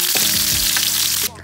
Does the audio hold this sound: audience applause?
no